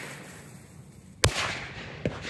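A firecracker, an older one kept for two years, bursts with a single sharp, loud crack outdoors, followed by a fainter second pop and some lingering rumble.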